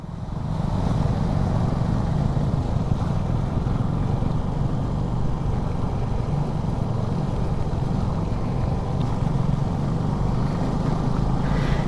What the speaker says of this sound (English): the engine was very smooth and also easy to handle this bike